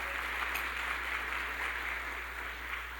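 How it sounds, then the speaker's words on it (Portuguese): A church congregation applauds loudly and continuously at a worship service, a dense, even wash of clapping throughout. "aplauda mais uma vez bem forte o nome de Jesus"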